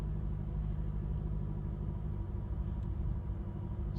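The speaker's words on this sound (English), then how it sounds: "Time to start the car with new engine oil in it. Nice smooth start." A Honda car engine runs smoothly just after starting on fresh engine oil, a steady low idle rumble with an even drone throughout and no voices.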